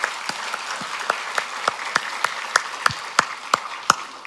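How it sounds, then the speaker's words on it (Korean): Church congregation at a Korean worship service giving encouraging applause for missionaries, a sparse, rhythmic round of clapping with distinct sharp claps at a steady pace, fairly close and unaccompanied by talk. "격려의 박수를 한번 보내주시면 고맙겠습니다"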